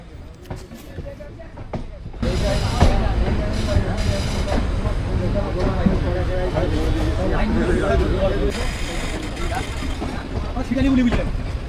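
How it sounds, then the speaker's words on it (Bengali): A train pulls away from Howrah toward the car shed, its steady rumble and rail noise rising and holding loud after the first couple of seconds, with a voice speaking over it. "এখন এটি কারশেডের দিকে যাচ্ছে"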